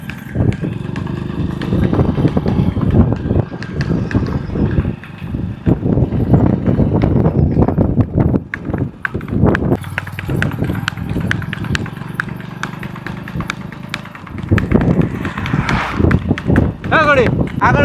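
A mare's hooves clip-clop in an uneven run of beats on the ground, close and fairly loud, with wind noise and people talking over them.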